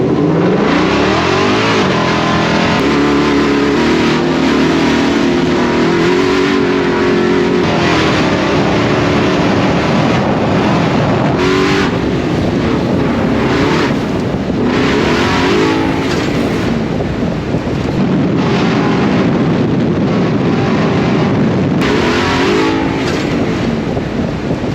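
A Ford Bronco Baja truck drives hard off-road at Sand Hollow. Its engine roars loud and close, revving and surging continuously with the rumble of terrain.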